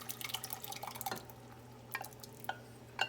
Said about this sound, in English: I'm going to add our tomato sauce to it